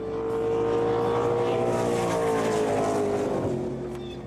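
Race cars roar down a drag racing strip on a converted airfield landing strip in Gimli, a loud continuous engine drone with rising and falling harmonic pitch, close by and sustained for several seconds before fading slightly.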